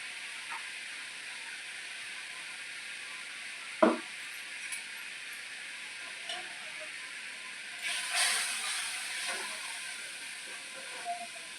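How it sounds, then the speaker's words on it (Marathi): Chicken masala and red chilli powder fry in a kadhai, a faint continuous hiss and sizzle with a sharp clink of a spoon and occasional soft stirring scrapes. "आता तुम्ही मसाला तळलेला आहे"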